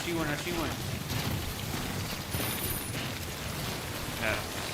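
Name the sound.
rain in a video game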